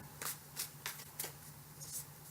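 Tarot cards are shuffled overhand in quick soft bursts, a handful of papery riffles close by at a quiet level.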